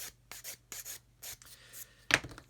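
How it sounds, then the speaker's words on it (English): Sandpaper rubs up to the edge of a seam, a series of short, close scratchy strokes in quick irregular rhythm, with one sharper, louder rasp near the end. "sanding up to an edge like that is just something you gain with experience."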